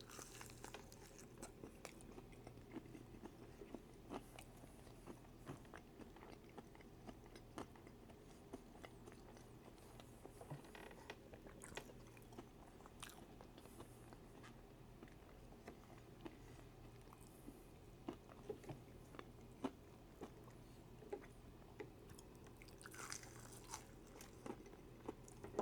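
Close, crisp bites and crunchy chewing on a frozen chicken tender keep a loose, uneven rhythm for the full stretch, quiet and unaccompanied by talk.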